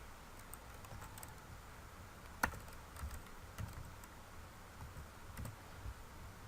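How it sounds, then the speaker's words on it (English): A publisher's name being typed on a computer keyboard, with a quiet, close series of uneven key clicks and a few sharper taps. "So the publisher, we type Routledge there."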